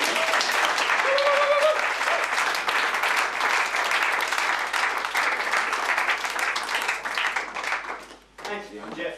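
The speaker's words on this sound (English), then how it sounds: "A great hand for Anthony, please!" An audience at a mentalism show gives volunteer Anthony a loud, sustained round of dense applause that carries steadily for about eight seconds before thinning out near the end.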